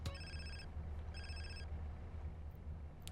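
A phone rings in the video game GTA: San Andreas, two short electronic trill bursts with a gap between them, fairly faint over a low steady hum.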